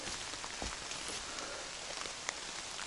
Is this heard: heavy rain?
yes